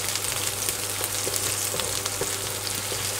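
Steady, even sizzle of something being stir-fried in a pan until golden for glass noodles with holy basil and ground pork, a constant close hiss over a low hum with occasional faint scrapes.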